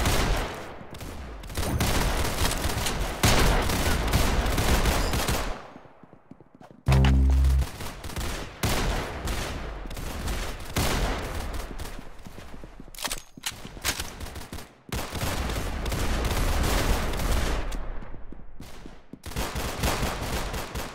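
Bursts of gunfire with repeated sharp shots and rolling volleys, loud and close, broken by a brief near-silent gap and a low thudding moment, with no speech.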